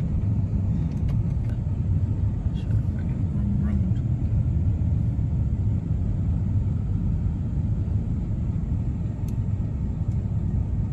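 A Mercedes ML63 AMG with its 500-horsepower M156 V8 cruising on an open road, giving a steady, loud low rumble of engine and road noise from inside the cabin with no letup.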